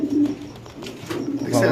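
Fancy pigeons at a Bangladeshi sale coo in low throaty bursts nearby while someone talks over them, with brief higher chirps near the end.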